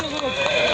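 At a busy livestock bazaar near Bishkek, a horse gives a brief whinny amid the loud crowd noise of the market, with people talking nearby throughout the short burst.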